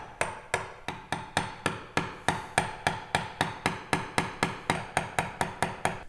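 Small, controlled mallet taps drive a chisel down into wooden end grain to cut a through mortise, about twenty crisp, evenly spaced knocks in a steady rhythm, close and moderately loud with no speech.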